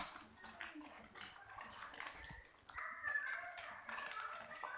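Aluminium foil is gently crumpled by hand, making soft, close crinkling and rustling with irregular small crackles and no talking.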